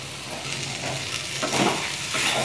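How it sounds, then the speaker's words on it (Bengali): Pumpkin and Malabar spinach cook in a pan over low heat, giving a continuous close sizzle and bubbling hiss. Soft stirring scrapes and shuffles rise toward the end, with no voices. "নেড়ে দিব।"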